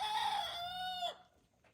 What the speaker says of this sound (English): It's about the least impressive crow I've ever heard.